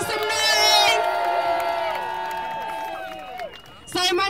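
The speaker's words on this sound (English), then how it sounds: "Everyone give yourself a round of applause. Make some noise." A crowd at a street protest march against evictions cheers and whoops loudly, high shouts and yells rising together and fading out before another burst of voices.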